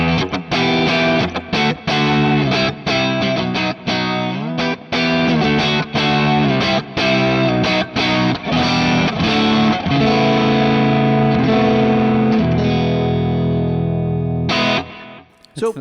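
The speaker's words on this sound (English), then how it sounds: "So I'll just up the gain, and now it's probably real dirty." A heavily distorted electric guitar through a Tonex One plays choppy riffs, then sustained gritty high-gain chords ringing out, loud and close, before fading near the end.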